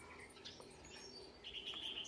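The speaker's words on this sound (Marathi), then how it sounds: "पक्ष्यांचा चिवचिवाट तुम्ही ऐकत असाल." Small birds chirp outdoors in a city on a sunny Sunday morning, with faint, scattered tweets and one brief brighter call over quiet background noise.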